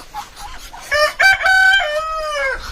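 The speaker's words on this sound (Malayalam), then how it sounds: "ഗ്രാമത്തിൻ്റെ നഷ്ടപ്പെട്ടു പോയിട്ടുള്ള ചില ശബ്ദങ്ങളൊക്കെയാണ് ഇപ്പോൾ നമ്മൾ പിന്നാമ്പുറത്ത് കേൾക്കുന്നത് കോഴി കൂവുന്ന ശബ്ദം" A single loud rooster crow, close and clear, rising in bursts then holding a long ringing note before cutting off.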